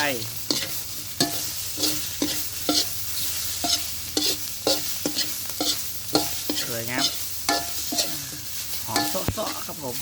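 Frogs stir-fried with curry paste in a pan, spatula scraping and tossing in a steady rhythm of repeated clanks over continuous close sizzling, no talk.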